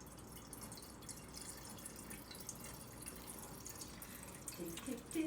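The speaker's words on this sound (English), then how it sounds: "And you just pour it so slowly and slightly, especially when you get to the bottom." Red Petite Sirah wine poured slowly and steadily into a decanter during a tasting, a soft continuous liquid trickle with light dripping, close by, with faint voices in the background.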